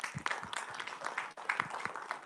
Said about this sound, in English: A big hand of applause to our panelists, please.